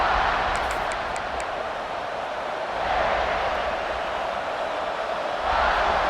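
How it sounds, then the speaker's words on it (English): A stadium crowd at a South Carolina vs LSU football game roars in a steady, dense wash of noise that swells slightly twice, with no clear individual voices. "This crowd ready to make its presence known."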